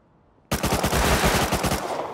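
After half a second of quiet, a loud, close burst of rapid automatic gunfire erupts in the survival video game Rust, roughly twenty shots in quick succession, then trails off.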